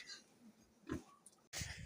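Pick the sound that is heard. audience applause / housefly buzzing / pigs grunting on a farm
pigs grunting on a farm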